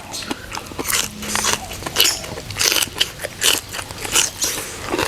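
Close, crisp crunching bites and chewing of crunchy pickled mustard greens eaten with Isan sausage and hot local chilies, repeating in an uneven rhythm over several seconds.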